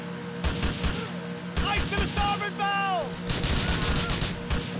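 Gunfire in Grand Theft Auto IV, bursts of rapid shots in several volleys over a low hum, with tonal game sounds and faint voices mixed in.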